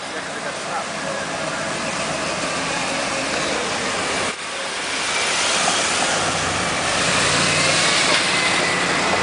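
Woodie cars cruising along Highway 101 by the beach at Oceanside, a continuous engine drone mixed with traffic and surf-like hiss, steady and fairly loud with a brief dip partway through.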